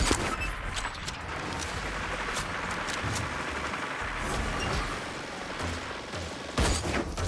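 Rapid bursts of gunfire from the Salvo weapon in the video game Hyper Scape, dense overlapping shots with booming impacts sustained throughout, loud and close.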